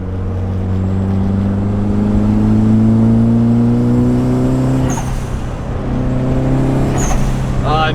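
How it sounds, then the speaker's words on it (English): A BMW E36 engine fitted with Tomei cams revs loudly and steadily up close, its tone climbing and holding, then dipping briefly before rising again, with short mechanical clatters near the end. "It's crazy how these little ass Tomy cams change the tone of the car so much."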